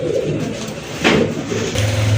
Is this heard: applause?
no